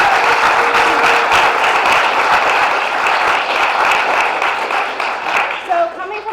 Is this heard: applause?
yes